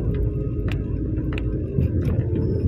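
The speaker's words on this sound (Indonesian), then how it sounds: "Tengok truk jalan guys." A truck rolls past on a road, a steady low rumble with a couple of brief higher rattles, fairly close and continuous, with no talk over it.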